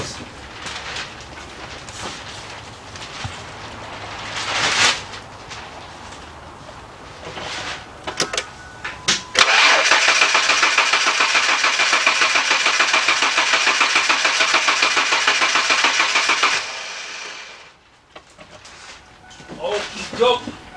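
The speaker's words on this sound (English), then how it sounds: "Let's crank this over and get that oil going through the system." 1998 Ford F150 pickup with a 4.2 engine, running rough with misfires, is cranked over: a loud steady churning burst lasting several seconds, with quieter shuffling and handling noises before and after.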